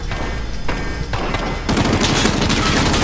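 Loud, dense automatic gunfire in a Call of Duty zombies match, a steady stream of shots that grows heavier and more layered halfway through, with no talking.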